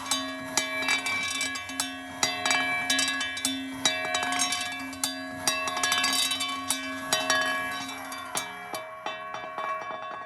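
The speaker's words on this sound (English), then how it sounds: "as the table rotates, the weights will rub against smaller weights I have clamped here." Metal weights on a motorized rotating table scrape and rub against smaller clamped scrap-metal weights, captured by piezo contact mics: a steady metallic ringing drone with repeated knocking and clanking hits at a loose, regular pace, close and clear.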